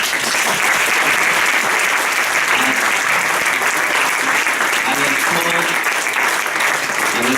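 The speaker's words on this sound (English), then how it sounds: "Please everyone give a warm round of applause for our panelists." Warm, sustained applause from a conference audience for a religion panel at a congress in Germany, a dense steady roar of clapping filling the room for several seconds.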